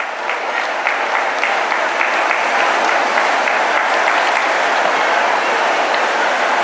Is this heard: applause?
yes